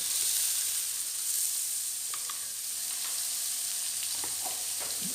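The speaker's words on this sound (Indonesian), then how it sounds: "Bawang merah, bawang putih ini diaduk merata dengan tahu yang sudah setengah matang tadi." Tofu, shallots and garlic sizzle steadily in hot oil with a broad hiss, while a utensil occasionally scrapes and clinks as it stirs.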